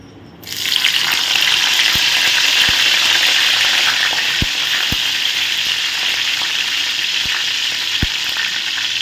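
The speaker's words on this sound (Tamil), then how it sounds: "கடுகு நல்லா பொரிச்சிட்டும்" Dense crackling and popping of mustard seeds spluttering in hot oil, a constant sizzle with a few sharp louder pops scattered through, no talking.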